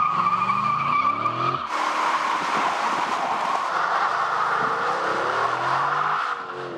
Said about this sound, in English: burnouts in this car are as easy as breathing